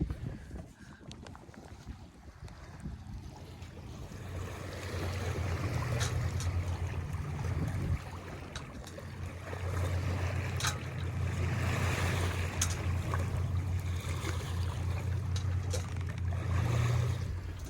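A sailboat under full sail with Hydrovane self-steering cruises along the coast, giving a steady rush of water and hull noise with wind buffeting the microphone, interrupted by occasional knocks.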